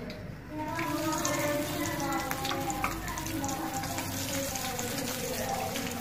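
Egg and bread cutlets hiss and crackle in hot oil, a steady loud sizzle that runs without pause, with someone talking over the frying.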